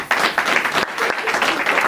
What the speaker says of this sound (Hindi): तो मैं इनसे जबरदस्त तालियों के साथ चाहूंगा कि अपना सीट ग्रहण करें।